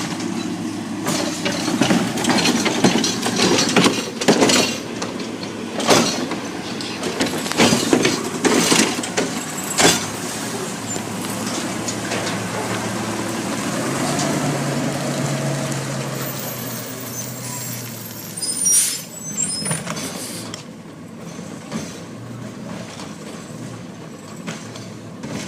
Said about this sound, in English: Here's another garbage truck.